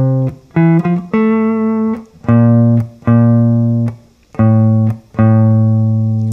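Guitar playing a melodic bass line on the sixth string, with sustained low notes plucked one after another in a steady, close, clear phrase of about eight notes, some ringing out while others are cut short.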